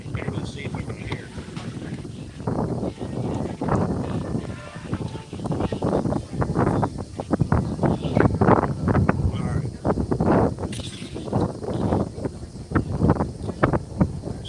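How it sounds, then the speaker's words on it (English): Strong outdoor wind at Epcot buffets the microphone in a steady, gusting roar that swells and fades across the whole stretch, loud and close, with possible faint voices underneath. "Ooh, it's windy."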